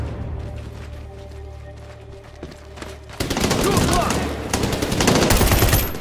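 Rapid automatic gunfire from the video game Medal of Honor swells in after a quieter stretch, dense overlapping bursts that build louder toward the end.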